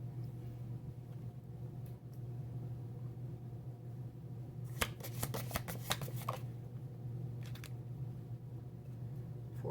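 A quick flurry of crisp tarot card riffles and flicks midway through, faint and close, over a steady low hum with no talking.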